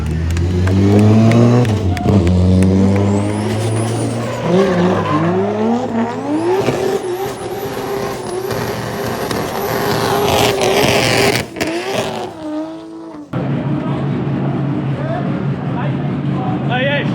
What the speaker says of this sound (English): The car actually made smoke in that burnout.